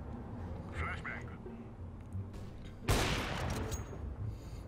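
Gunfire in the video game CS:GO, with a burst of shots around the three-second mark standing out over quiet footsteps and low game ambience, while a voice whispers faintly beneath.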